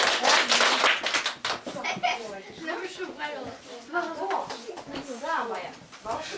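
A group at a children's New Year party claps hands in unison on request, with a short burst of claps at the start, then voices talking and chattering over quieter moments.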